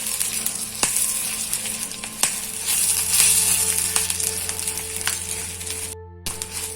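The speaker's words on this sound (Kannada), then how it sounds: "ಈಗ ಒಂಚೂರು ಉದ್ದಿನಬೇಳೆ," Urad dal sizzles in hot oil as a tempering in a clay pot while Malabar spinach stir-fry is being made. The steady frying hiss carries on throughout, with a few sharp clinks and a brief silent gap near the end.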